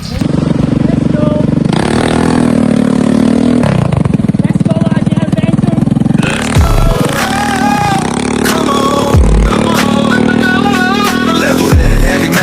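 Motorcycle engine running loud and close in Zambales with music playing over it, the pitch rising and falling in several revving surges after a steadier idle.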